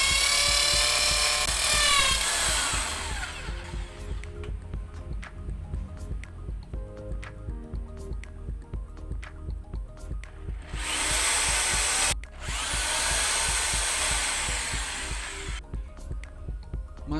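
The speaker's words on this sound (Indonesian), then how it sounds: "Kita bor dulu temboknya." A power drill bores into a house's brick backyard wall for a water heater mount, a loud whining grind that runs in several long bursts, rising sharply at the start and again near the end.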